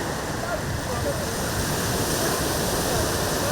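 Ocean waves wash onto the beach at Ngor Island in a steady, continuous roar of surf that holds an even level throughout, with no voices.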